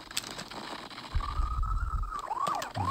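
Ambulance siren in the PlayStation 1 game GTA 2, a rising wail that steadies then sweeps up and down near the end, over low rumbling engine and crash noise.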